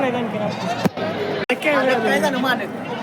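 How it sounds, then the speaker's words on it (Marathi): Sheep bleat repeatedly at a crowded livestock market, loud nearby cries mixed with goats and steady crowd chatter and voices throughout. "मेंढी बाजार"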